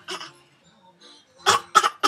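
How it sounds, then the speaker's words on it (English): A person gives one short cough, then two sharper coughs in close succession after a quiet pause, nearby and clear. "Are you coughing?"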